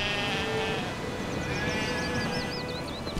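Sheep in The Witcher 3 bleating close by over a busy game ambience and background music, with a short run of higher chirps near the end.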